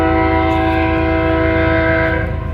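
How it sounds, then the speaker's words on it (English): A loud, sustained train horn blares as one continuous chord, close by, fading slightly at the very end. "gonna hear the train honk some more here in just a second."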